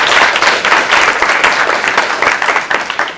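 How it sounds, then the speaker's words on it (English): Loud, dense audience applause in a hall at a mentalist's stage show, sustained clapping from many hands throughout. "Round of applause for her."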